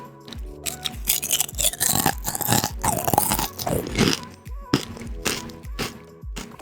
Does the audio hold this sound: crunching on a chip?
yes